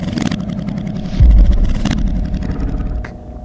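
A 1989 Honda Shadow motorcycle engine idling nearby, a loud low rumbling throb with a brief deeper surge partway through, steady and close with no talk.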